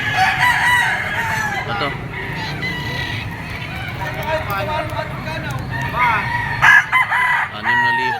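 A bull stag rooster crows at a busy poultry market, its drawn-out call rising over background crowing and clucking from other birds, with someone talking nearby.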